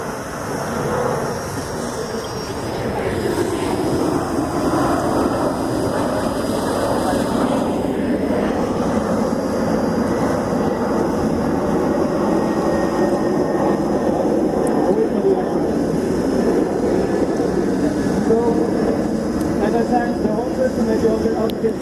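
The eight motors of an AscTec Falcon 8 octocopter drone run steadily at a trade fair, a continuous loud whirring hum that holds throughout, with people talking over it.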